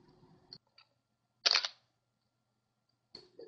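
A single-lens reflex camera with a 17–85 mm lens set at 85 mm takes a product shot. One crisp, close shutter click stands alone in a quiet room, with faint handling sounds before and after it.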